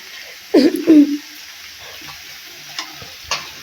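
Onion, green chilli and cumin sauté in a little oil in a pan with a soft, steady sizzling hiss and occasional stirring scrapes. A brief tonal vocal sound rises near the start.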